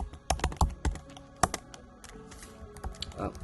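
Typing on a computer keyboard while entering a Linux command, a quick run of crisp, close key clicks with a short pause before a few more strokes.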